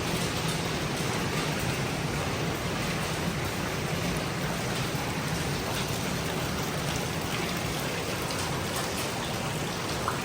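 Steady, dense rain from a tropical storm patters on surfaces nearby, a continuous broadband wash with no voices.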